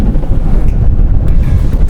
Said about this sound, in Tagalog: ang hangin dito ngayon sa Pacific ay bago-bago, nag-aami-amihan.